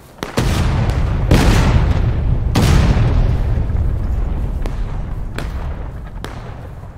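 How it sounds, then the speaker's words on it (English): Cannon artillery ripple fire in an online war video game: several heavy booms fire one after another at uneven intervals, the first ones loud and close, later ones fainter, each trailing into a rumbling echo. "Ripple fire right to left. No interval."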